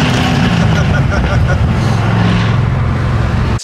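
A Chevrolet Corvette with over 500 horsepower drives past, its loud, steady engine roar sustained throughout while a voice talks over it.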